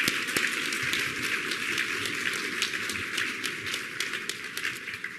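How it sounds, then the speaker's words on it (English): Audience applause at a government departmental awards ceremony, a dense steady wash of many hands clapping throughout, fairly loud and continuous with no voices over it. "Another round of applause for all of you"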